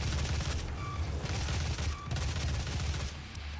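Sustained rapid gunfire from a weapon in the video game Doom, loud and continuous with dense low booms and brief pauses, no talking over it.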